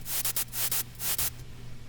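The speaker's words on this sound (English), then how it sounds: "all we're going to use here is some bright white noise" Bright white noise from a synthesizer with its oscillator switched off, heard as a few loud hissing bursts that swell and cut off in an uneven rhythm over a low steady hum, with no voices.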